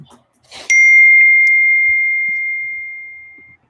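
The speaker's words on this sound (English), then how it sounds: "I just got a text message." A phone plays a text message notification: one clear, bright ding after a brief rustle. The tone rings on and fades slowly over about three seconds in a quiet room.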